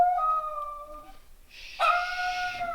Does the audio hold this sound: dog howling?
yes